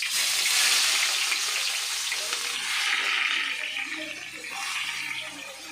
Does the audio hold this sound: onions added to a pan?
yes